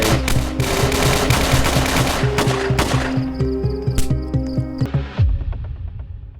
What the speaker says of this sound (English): the chaotic exchange of gunfire erupted.